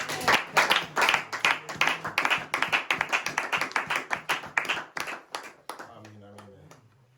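A church congregation claps in steady rhythmic unison, dense and lively with many hands, before the clapping thins out and stops near the end.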